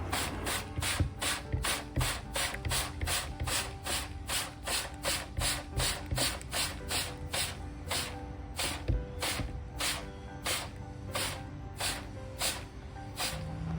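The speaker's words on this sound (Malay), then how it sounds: "semburkan dengan menggunakan botol semburan dengan daya yang sederhana ke arah lakaran grafik." A spray bottle is pumped repeatedly with moderate force, misting water onto a screen-printing mesh in a steady series of short, crisp spritzes, close up and with no talk.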